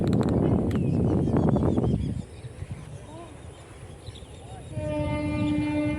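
A Kottayam–Ernakulam train rumbles past nearby paddy fields with clattering wheels, then fades, and a long horn blast sounds toward the end; birds chirp faintly in between.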